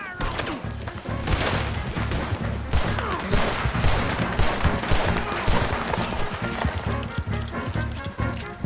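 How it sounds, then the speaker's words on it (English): Rapid bursts of gunfire in a Red Dead Redemption 2 shootout, dense and loud, with hoofbeats and crashing mixed in over a steady din. "Open fire on him!"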